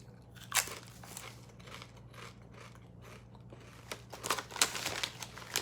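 Crunchy Lay's Korean kimchi potato chips from Thailand being chewed up close, a run of crisp crackling bites and crunches, louder toward the end, with no talking.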